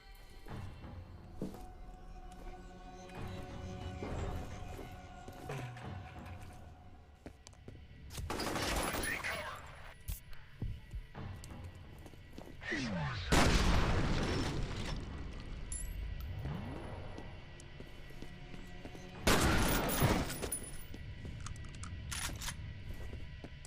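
Shotgun blasts in the game F.E.A.R., several loud booming shots spaced irregularly across a quieter stretch of ambient game sound, some followed by brief metallic clatter.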